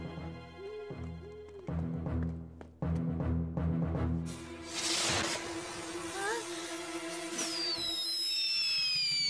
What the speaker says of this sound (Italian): Oh no, i fuochi d'artificio.